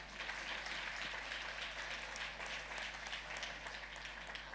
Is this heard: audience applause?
yes